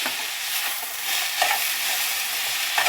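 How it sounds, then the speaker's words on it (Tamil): A spatula scrapes and turns a beetroot stir-fry with grated coconut in a pan over a soft sizzle, in several quick strokes heard up close with no talking. "நல்லா கிளறி விட்டு ஆஃப் பண்ணிடலாம் அடுப்பை."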